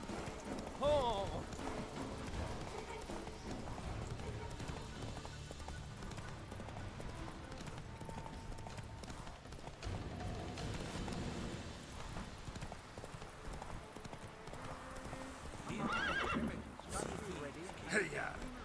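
Horse neighing and hooves galloping in the video game Witcher 3, a whinny near the start over steady clip-clop and game music, with a voice speaking over it.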